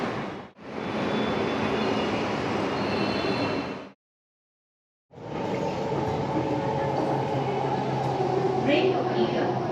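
A Bangalore metro train runs at Dasarahalli station with a loud, steady rush and rumble, broken by a brief silent cut, then continuing with faint squeals and a voice speaking over it.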